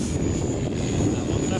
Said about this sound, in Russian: тут же перед ним вертолет крутится